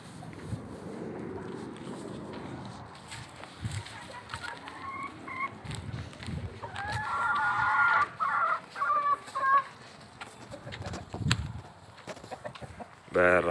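Chickens and geese let out into a farmyard cluck and chatter at moderate distance, with a burst of honking goose calls midway, a few louder squawks, and some background shuffling throughout.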